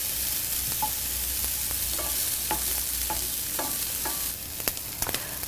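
Red onions sauté in a pan for a pork and apple dish: a bright, continuous sizzle with regular scraping strokes of a utensil, close and fairly loud, with no voices.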